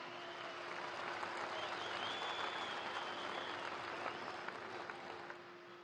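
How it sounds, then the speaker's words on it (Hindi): A large crowd applauds continuously to welcome Prime Minister Narendra Modi at a public event in Jammu and Kashmir. The dense clapping is faint and distant, with a steady tone running underneath and no clear speech. "आप सब तालियों की करतल ध्वनि से माननीय प्रधानमंत्री"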